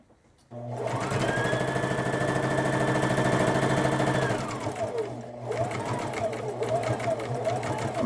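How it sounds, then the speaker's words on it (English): Sewing machine stitching a corner of a fleece puzzle-piece pillow, running loud and steady for several seconds before stopping, then starting again in shorter bursts. "just sew about 1/4 inch away from the edge and put your needle down and pivot like you would on any corner."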